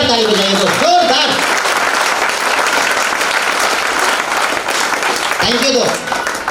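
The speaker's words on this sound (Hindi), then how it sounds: "मैं चाहता हूं उनके लिए एक जोरदार ताली बजाइए दोस्त, जोरदार" Loud, continuous audience applause at a business leaders' seminar, dense clapping sustained throughout, with brief bursts of a voice near the start and end.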